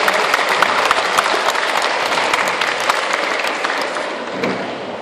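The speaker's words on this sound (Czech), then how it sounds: "Tak ještě jedno pořádné potlesk pro pána" Loud, dense crowd applause at the Ostrava motor show, cheering a man on, a continuous wash of clapping that stays strong for about five seconds and eases slightly at the close.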